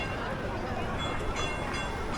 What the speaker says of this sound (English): There goes the train again.